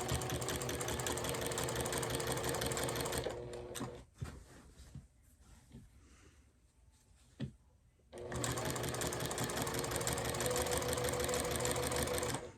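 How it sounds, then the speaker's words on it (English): A sewing machine stitches binding onto a quilt at a quarter-inch seam, running steadily and loud, stopping for a few seconds of quiet handling noises, then running steadily again. "Sew a few inches until where my fingers are, and then align the edge and just keep going along that 1/4 inch."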